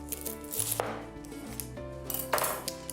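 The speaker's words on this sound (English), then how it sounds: "We want to do our onion. I'm gonna cut off either end. And cut it in half," A knife cutting an onion on a board, with a few sharp, separate chops and clicks against a quiet kitchen background, no talking.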